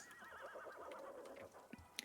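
A horse whinnies in the Wanderstop video game, a faint, wavering neigh that trails off, followed by a couple of soft clicks.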